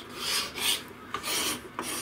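Repeated rasping strokes scrape across a wooden electric guitar neck being carved, about four long, rough, rhythmic passes close by.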